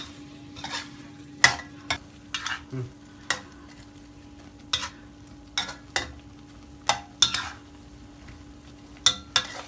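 Stink beans (sator) stir-fried with shrimp paste and fresh shrimp in a pan, with a spatula clanking and scraping against the metal in irregular strokes over a low sizzle, close and fairly loud.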